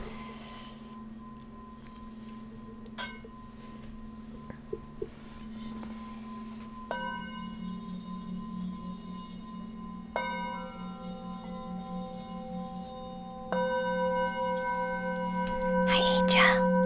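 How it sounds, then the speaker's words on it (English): Two singing bowls are struck several times in turn, each strike ringing out in long, sustained overlapping tones that build and layer, with soft whispering in the background. "Let's do the singing bowls."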